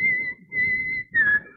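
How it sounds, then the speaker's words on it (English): Several people whistle together during a church service, a sustained high tone in three short bursts over a low murmur of the congregation, fairly close and steady. "让我们一起来吹口哨。"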